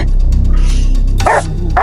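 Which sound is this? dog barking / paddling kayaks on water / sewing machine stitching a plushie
dog barking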